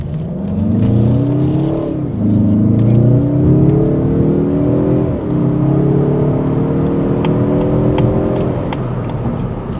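Turbocharged 2.5-litre four-cylinder engine of a Mazda3 Hatchback revving loudly and steadily, with rising and falling harmonic tones as it climbs through gears, close and continuous with no talk.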